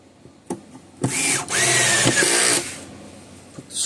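A power drill drives screws back into a hurricane-damaged Gallagher solar fence charger: two close, loud whirring bursts with a brief pause between them, framed by quieter handling clicks.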